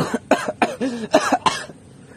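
A short burst of several harsh coughs in quick succession from someone with a two-week-old cough, close and loud, then quiet.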